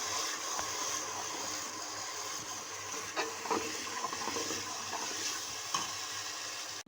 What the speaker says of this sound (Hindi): इसमें जो मिक्सचर मैंने दही का और बेसन का बनाया था वो मैं अब इसमें डाल दूंगी